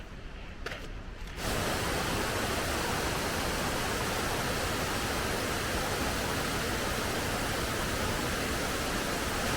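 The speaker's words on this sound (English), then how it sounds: "There are waterfalls everywhere." On the Yosemite Falls trail during heavy snowmelt, a waterfall roars in a dense, steady rush after a short quieter start, continuous and enveloping with no voices.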